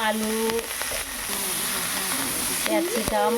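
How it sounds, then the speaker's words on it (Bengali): Cauliflower pieces fry in hot oil in a pan for a vegetable curry, a dense continuous sizzle heard up close, with a voice briefly audible at the start and end. "ফুলকপিটা আগে ভেজে নেওয়া হচ্ছে"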